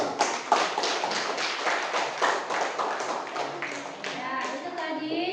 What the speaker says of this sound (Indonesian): Sekarang berikan tepuk tangan dulu untuk kelompok.